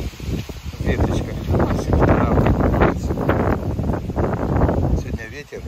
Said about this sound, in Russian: Сегодня ветер сильный.